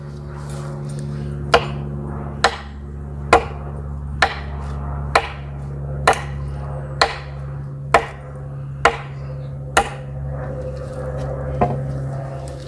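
An EDC knife thrown repeatedly into a target, giving about ten sharp, solid thunks spaced roughly a second apart over a steady low background hum.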